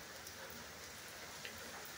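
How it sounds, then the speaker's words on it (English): Steady rain falls after a storm has passed, an even dense hiss of drops on surfaces with no breaks and nobody talking. "But now it's just a steady rain."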